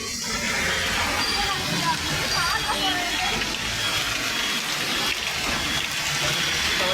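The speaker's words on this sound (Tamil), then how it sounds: "சென்னையில் இப்பொழுது மழை பெய்து கொண்டிருக்கிறது அந்த காட்சி தான் பார்க்கின்றீர்கள் நல்ல பலத்த மழை" Steady, dense rushing of heavy rain in Chennai pours without letup, a broad hiss with splashing texture and a murmuring voice faintly beneath.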